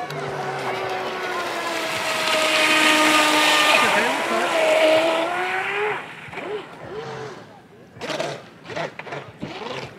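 An RC boat on 6S batteries screams at full throttle on a lake, its high-pitched whine climbing and wavering for several seconds, then cutting out into short bursts, with a voice talking briefly at the end.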